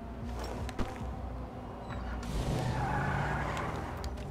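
A car in Grand Theft Auto V drives with a steady engine drone, then its tires squeal and skid through the second half, loud and close with no talk over it.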